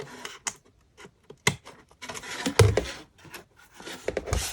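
Blade cutting into craft display material for holding charms and dangles, heard up close as irregular scratchy scrapes and clicks in short bursts separated by pauses.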